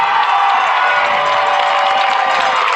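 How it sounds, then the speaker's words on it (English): Fans of a 2003 high school football game between the Red Devils and the Cobras cheer loudly, a dense, continuous roar of crowd voices with no pauses, close and filling the whole scene. "the Red Devil fans are cheering loudly, and the Cobras are cheering loudly on this side"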